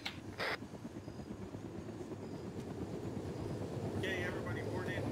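A video game helicopter spooling up, its low rotor drone and whine building steadily under radio chatter from the squad.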